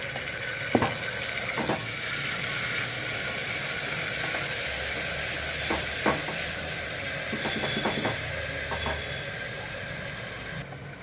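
Ginger garlic paste frying in a pan for an ivy gourd fry, a steady soft sizzle with a few clinks of stirring and scraping, close and moderately loud, no speech.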